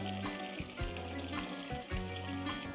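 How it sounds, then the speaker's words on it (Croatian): Water pours over fish in a pot to make fish stock, a steady close stream with a gentle splashing, ending in a brief knock. "I sve ostalo mi zalivamo sa vodom, tako da nam voda pokrije ribu"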